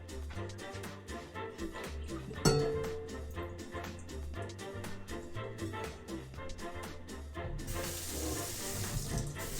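Cold tap water runs steadily into a kitchen sink while garbanzo beans are rinsed, a continuous splashing under background music, growing louder and hissier near the end.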